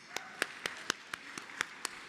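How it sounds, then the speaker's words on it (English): Sparse clapping at a ladies' charity luncheon: about eight distinct, evenly spaced claps in quick succession, fairly faint and fairly close, with no crowd swell around them. "So we want to give them all a big applause for what they do."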